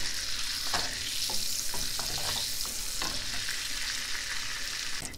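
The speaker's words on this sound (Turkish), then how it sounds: "Bir yemek kaşığı tereyağını tavama aldım. Eritiyorum." Butter melting in a frying pan sizzles steadily throughout, a close, even hiss broken by occasional soft clicks of stirring, heard alone with no talk, while it browns for topping a Muğla-style göce tarhana soup.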